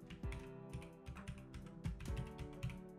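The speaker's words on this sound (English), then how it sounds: "so I'll type that out now." Someone types on a computer keyboard, quiet close-up clicking and tapping in irregular quick runs of keystrokes with no voices.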